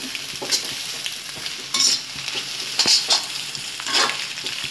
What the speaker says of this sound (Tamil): இதை வந்து கிளறி விடணும்